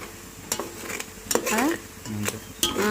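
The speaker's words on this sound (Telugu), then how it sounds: "ఇంకా ఇది బ్రౌన్ కలర్ వచ్చేదాకా బాగా ఫ్రై చేయాలి" Ginger, small onions, coconut, green chillies and curry leaves frying in a pan, a low sizzle punctuated by several sharp scrapes and clinks of a spoon against the pan, close up.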